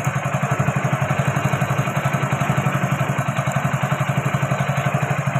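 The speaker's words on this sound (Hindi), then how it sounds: "ये गाड़ी स्टार्ट करें, स्टार्ट हो गई।" A Hero Splendor BS6 motorcycle engine idling after a start, a steady close thumping putter with an even rhythm and no talking.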